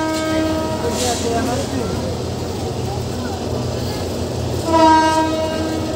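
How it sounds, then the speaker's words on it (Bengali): Modhumoti Express passenger train pulling away after a stop on the Dhaka–Rajshahi route, its horn sounding in two loud blasts near the start and end over steady rolling rumble, with faint voices in the background. "দীর্ঘ 15 মিনিট থামার পর কিন্তু আমাদের ট্রেনটা আবার ছেড়ে দিল।"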